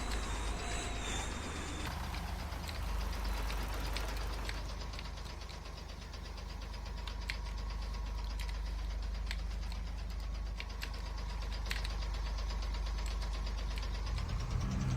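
A harvester engine left running in Farming Simulator 25, a loud, steady low rumble with a clattering mechanical texture that holds continuously without pause.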